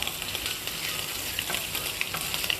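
Boiled potatoes sauté in desi ghee with cumin and curry leaves, making a dense, even hiss of frying with small crackles and pops throughout.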